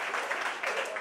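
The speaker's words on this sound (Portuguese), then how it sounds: "Palmas para os doutores." A church congregation applauds the doctors, a brief burst of dense clapping from the crowd in a large hall with some voices mixed in.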